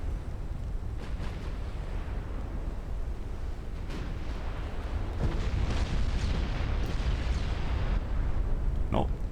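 Warship turrets cooking off and exploding in a naval strategy game, DIP v2 campaign: heavy low booms and rumbling blasts over a constant roar, with a few sharper cracks toward the end.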